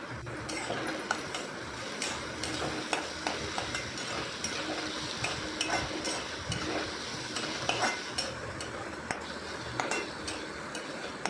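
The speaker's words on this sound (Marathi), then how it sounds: "कांदा पण थोडा हलवून घ्यायचा" Onion fries in oil in a pan as it is stirred, a steady close sizzle carrying repeated scraping and clinking strokes throughout.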